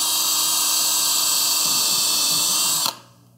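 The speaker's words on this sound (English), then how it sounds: "We're getting these pre-drilled so that we can tack them on to our" Power drill pre-drilling holes in wooden pieces for a DIY drum enclosure, a loud steady high-pitched whir running continuously for about three seconds before stopping abruptly, leaving a faint residual hum.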